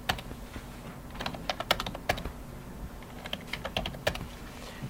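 Fingers tap on keys in quick irregular bursts of sharp clicks, close and moderately quiet over a low steady hum, with no voices.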